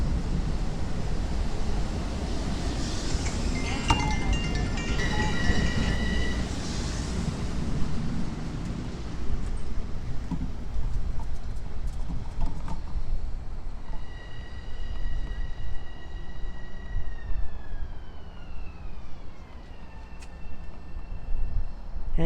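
A Long Island Rail Road M3 commuter train rumbles and rolls into the rail yard at Ronkonkoma at steady volume, with high metallic whines and squeals from the wheels gliding in and out, ongoing throughout.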